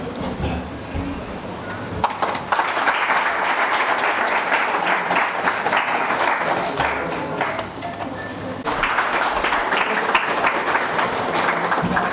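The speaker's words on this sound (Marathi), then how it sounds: "सर्व विद्यार्थ्यांनी टाळ्या वाजवून विद्यार्थिनीचे अभिनंदन करायचे" Students at a state-level intercollegiate elocution competition prize ceremony clap for a female prize winner, dense and steady applause that swells again near the end, close and loud with no talk over it.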